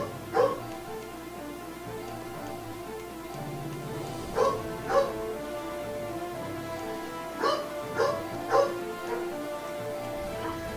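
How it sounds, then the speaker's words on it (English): A dog barks and whimpers in short bursts, several yips spaced through the clip, over steady background sound from an Agarest: Generations of War 2 game session. "Oh my god, dog!"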